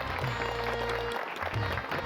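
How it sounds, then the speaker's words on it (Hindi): Applause from a group welcoming guests aboard a pretend airline in a comedy sketch; a steady burst of clapping with a brief dip midway, no talking over it. "तालियां"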